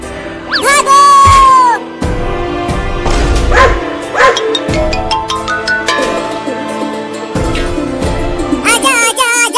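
Cartoon puppies yap and bark in short, high-pitched bursts, loud and close, mixed with cartoon music and sound effects while a character talks over them.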